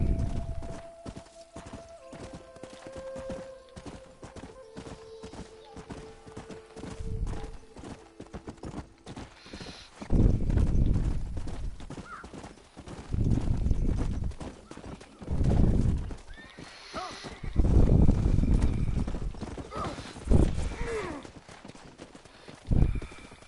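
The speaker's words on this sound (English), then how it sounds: "stay on the horse until I've completely caught up to the stallion" A horse gallops with steady rapid clip-clop hoofbeats and occasional neighs in Red Dead Redemption, chasing a stallion, with loud bursts of game sound and a voice speaking briefly over it.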